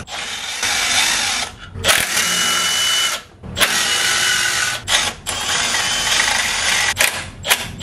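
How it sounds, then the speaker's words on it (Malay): Right-angle impact wrench removing gearbox bolts during a clutch plate and flywheel oil seal job, loud hammering bursts of several seconds each separated by short pauses, close up with no talk. "Sekali lagi, right angle impact memang best pakai. Buka setiap bolt secara silang seli."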